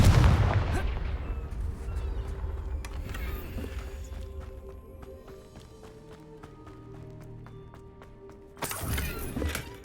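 Explosive spell blasts in Hogwarts Legacy: a loud booming burst at the start, a quieter stretch of scattered impacts and footsteps, then another sharp loud blast near the end.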